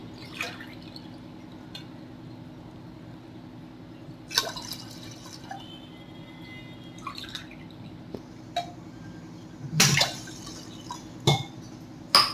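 Milk and water poured onto raw rice in a pot while making kalkandu sadam, a sweet rock-sugar rice dish, heard as scattered close drips, trickles and small splashes in brief bursts against a quiet kitchen background, with no talking.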